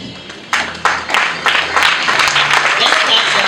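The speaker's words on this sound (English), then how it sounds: "Let's clap for" A graduation ceremony audience starts clapping with a few scattered claps. The applause quickly builds into steady, fairly close clapping from the crowd.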